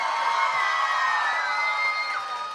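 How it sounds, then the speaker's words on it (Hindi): Children in the audience at a mushaira in Mumbai cheer and shout together, a steady, dense roar of young voices that holds at an even level throughout. "जोरदार आवाज़ लगाइए बच्चों"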